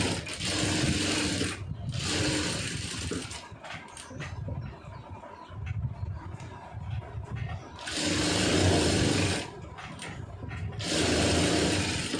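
A sewing machine stitches a blouse lining in loud, steady bursts, running for about two seconds, pausing, then starting again for longer runs, with softer handling noises in the quiet stretch between.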